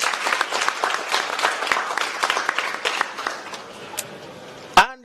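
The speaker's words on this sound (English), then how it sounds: "Let's clap for God." Scattered audience clapping at an entertainment event in Uganda, a loose rhythm of claps that thins out over a few seconds before a brief sharp sound at the end.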